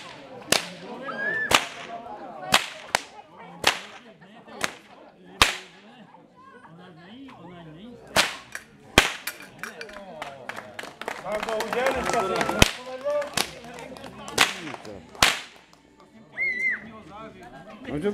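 Loud, sharp whip cracks ring out one after another at an outdoor birthday celebration in a Czech village, irregularly spaced, with chatter and talking from a crowd between and under them.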